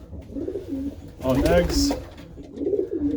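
Pigeons in a loft give soft, low, rolling coos at the start and again near the end, with a person speaking briefly in between.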